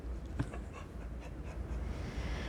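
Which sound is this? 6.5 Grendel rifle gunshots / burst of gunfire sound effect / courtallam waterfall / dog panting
dog panting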